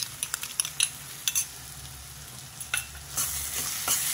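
Ginger garlic paste frying in a pan for an onion curry, a low steady sizzle under scattered sharp clinks and scrapes of a spoon stirring against the metal, louder clatter toward the end.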